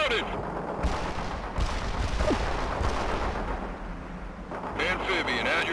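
Gunfire and artillery-like blasts in the video game World in Conflict, with repeated shots and booms over a constant battle rumble and radio-style voices talking.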